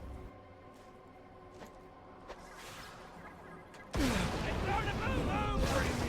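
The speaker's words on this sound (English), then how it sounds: "let's throw some grenades at them" Grenade blasts in Borderlands: The Pre-Sequel, a quiet game ambience with faint thuds that gives way to a sudden loud, dense burst of explosions and chaotic combat noise, with someone talking over it.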